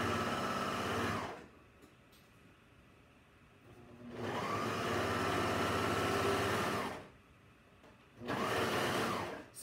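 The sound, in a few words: serger sewing a T-shirt seam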